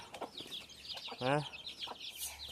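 A few soft clucks from a chicken, fairly close, with faint outdoor background noise between them.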